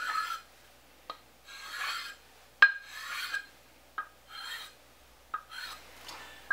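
Edges of sharpening stones being chamfered, with repeated rasping strokes in short bursts separated by sharp clicks, close and distinct in an otherwise quiet room.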